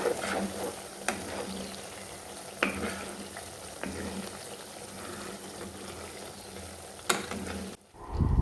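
Malai simmering down into ghee in a cooking vessel, a steady soft sizzle and bubbling with occasional sharp clicks of a stirring spoon scraping the pan, close and continuous without talk.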